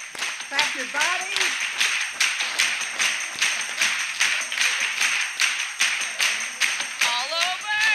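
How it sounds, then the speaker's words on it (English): A group pats and claps on their own bodies in time with a lively music session, a steady, evenly spaced run of sharp slaps repeating throughout over sustained music, with a voice singing briefly near the end. "You can clap your body. Clap your body."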